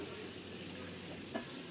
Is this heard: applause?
no